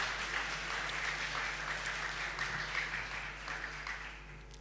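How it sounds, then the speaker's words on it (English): Sustained applause from a startup pitch event audience, dense clapping that fills the room and slowly tapers off toward the end. "big applause for Nikki on the piano."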